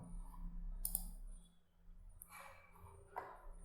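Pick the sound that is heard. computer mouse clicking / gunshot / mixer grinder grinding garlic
computer mouse clicking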